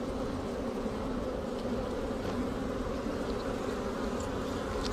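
Agitated honeybees swarming around an opened hive, a dense, steady buzzing close by with no voices.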